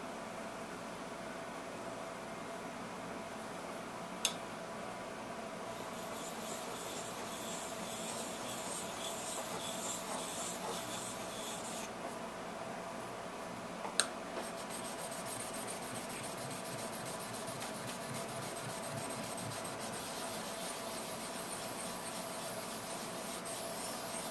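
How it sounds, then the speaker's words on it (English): A chisel is sharpened by rubbing it back and forth on a stone, a continuous close rasping scrape with two sharp knocks along the way. "I can tell from the way this is sharpening, this is not an expensive chisel"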